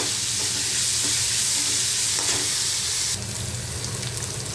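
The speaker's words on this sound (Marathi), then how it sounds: "सुकटही कांद्याबरोबर तेलात मस्त परतून घ्यायची आहे" Dried shrimp and onion sizzle steadily in hot oil as they are stir-fried, a close, continuous frying hiss with a low stirring rumble that drops slightly in level near the end.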